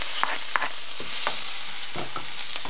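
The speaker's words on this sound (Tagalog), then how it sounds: "Lagyan natin siya ng oil. Pagkatapos, lagyan natin siya ng garlic, ng bawang." Garlic sautéing in hot oil in a pan, a steady close sizzle broken by sharp ticks and clinks from stirring.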